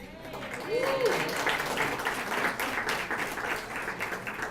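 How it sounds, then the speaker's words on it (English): Guests at a scholarship reception applaud, a steady wash of clapping from a room full of people, moderately loud, with a voice talking over it. "now I'll tell you why you're clapping for them"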